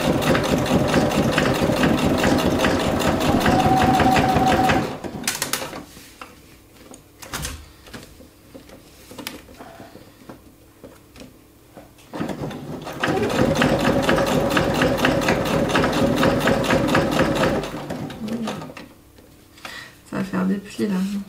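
A sewing machine stitches through a binder cover in two long buzzing runs with a pause between them, while someone speaks French over the quieter stretches.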